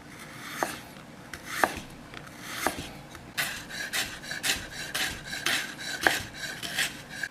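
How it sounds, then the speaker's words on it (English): A knife cuts through fresh ginger on a board for island curry fried rice, giving a series of crisp, close chops, a few spaced at first, then quicker and denser, each with a bright rasping edge. "Next, we cut up our ginger."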